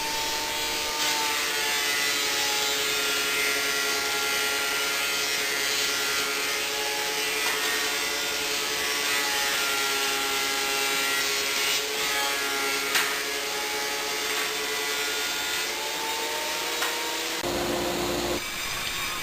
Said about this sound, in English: I run them all through the thickness planer just to make sure they're all smooth and of consistent thickness.